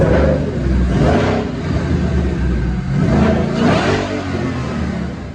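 Roush-supercharged 2012 Ford Boss 302 Mustang on a dyno, its engine roaring loud and close through a sustained pull, the rumble swelling and easing in two rising waves with a steady broadband whine.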